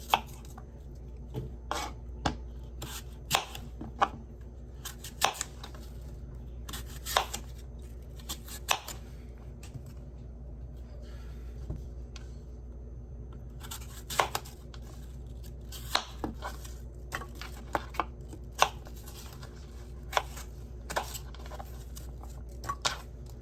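A knife slicing apples on a cutting board for apple crisp, with crisp intermittent chops and cuts in irregular clusters, fairly close and moderately quiet against a low steady background hum.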